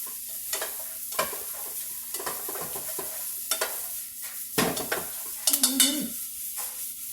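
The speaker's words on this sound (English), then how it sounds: "Hear that sizzle? Sizzle it." Onions, jalapeño and mushrooms sizzle in a pot, a steady frying hiss with repeated louder bursts as the food is stirred, clattering near the end.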